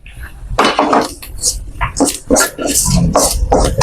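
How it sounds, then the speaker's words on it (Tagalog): Metal wok lifted and tossed over the heat while palabok with malunggay and shrimp broth is cooked, giving repeated clanks, scrapes and clatters in uneven bursts, fairly close and loud, with some background voice. "Kaya tinataas ang kawali."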